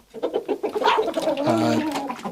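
Backyard chickens cluck and murmur close by in a busy, overlapping flurry of short calls, with no voices.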